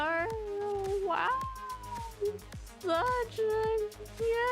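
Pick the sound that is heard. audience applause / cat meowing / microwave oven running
cat meowing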